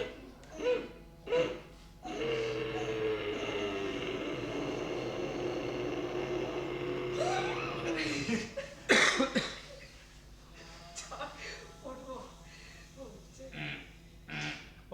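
During a yoga breathing exercise, a few short, sharp hiccup-like breaths come first, then a long strained exhale followed by several coughs and throat-clearing sounds, close to the listener.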